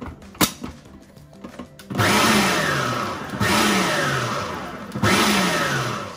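A food processor pulses yeast, sugar and flour for doughnuts in three loud, close whirring bursts of about one and a half seconds each, preceded by a few light clicks and knocks.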